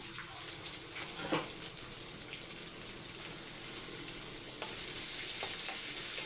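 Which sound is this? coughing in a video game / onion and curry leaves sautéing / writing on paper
onion and curry leaves sautéing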